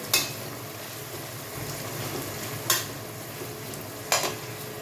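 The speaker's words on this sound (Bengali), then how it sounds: "সব সবজিগুলো দিয়ে ভালো করে হালকা হাতে নেড়ে নিতে হবে।" Vegetables for Szechuan fried rice sizzle softly while stir-fried in a pan, with a quiet continuous fry punctuated by three sharp scraping strokes of the spatula.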